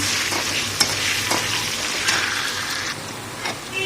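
Potatoes frying in oil with saffron and a pinch of salt for a chicken biryani, a steady close sizzle with a few sharp clinks of a spoon against the pan, no voices.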